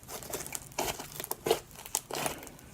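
Homemade slime mixed with squishy pieces and polystyrene beads is kneaded by hand, giving close, irregular crinkly squelches and crackling pops in short bursts.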